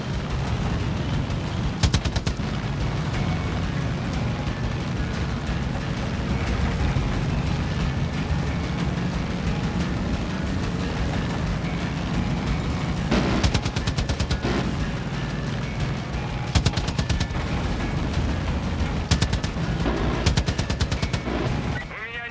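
Sustained gunfire rages in the video game Far Cry 5: loud, continuous automatic bursts with heavier booming shots and sharp cracks, several louder volleys standing out near the end.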